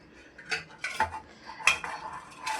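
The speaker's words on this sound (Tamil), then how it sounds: "குழம்பு கலக்கி ஊற்று." A ladle stirs and scoops murungakkai coconut kuzhambu in a pot, giving a few close, brief metallic clinks and scrapes against the vessel, with quiet pauses between them.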